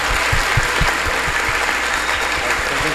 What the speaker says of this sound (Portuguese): Gente, por favor, uma salva de palmas para essas pessoas.